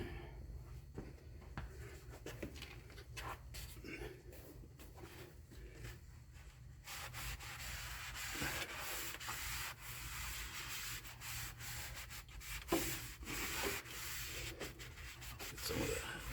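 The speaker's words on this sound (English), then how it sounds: "Get a little clean off there with WD-40." A rag wipes WD-40 across grimy metal on a lathe during a 5hp motor install, giving repeated dry rubbing strokes, quiet and close, with no talking.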